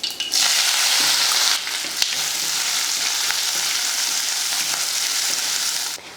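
Mustard seeds, onion, curry leaves and green chili hit hot oil with a loud, bright sizzle that holds steady for several seconds, then cuts off abruptly near the end.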